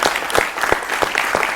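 An audience at an Indian military gallantry award ceremony claps steadily and fairly loudly throughout, with a few sharper individual claps standing out from the dense patter.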